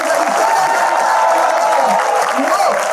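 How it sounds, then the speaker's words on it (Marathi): An audience at a jewellers' event clapping together in a dense, steady burst of applause filling the room, with crowd noise mixed in throughout. "जेवढ्या जोशात टाळ्या वाजवता येतील"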